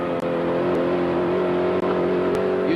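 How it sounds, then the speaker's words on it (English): 1986 race car engine at a racetrack, a loud sustained engine drone heard from the car with steady pitch and slight shifts as it drives through corners, briefly dipping at gear changes. "Car sounds beautiful."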